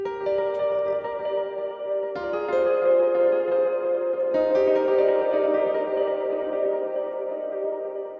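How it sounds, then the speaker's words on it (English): Piano chords played through a Soundtoys Effect Rack with SuperPlate reverb and echo ring out with a lush, washy tail. New chords enter about every two seconds, with clear repeats and shimmer, and no voices. "some reverb through Superplayed and then some echo in"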